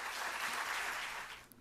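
An audience at a book launch applauds, a short burst of full, steady clapping that fades out near the end.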